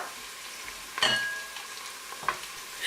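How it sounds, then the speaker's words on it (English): Chopped onions and the white parts of spring onions fry together in oil, a steady close sizzle with a couple of scraping stirs and utensil taps, no talking. "add in the spring onions and fry together"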